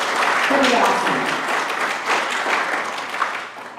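A crowd at a check presentation ceremony applauds steadily, a full wash of clapping that swells and dips slightly over a few seconds and thins toward the end, with some voices mixed in.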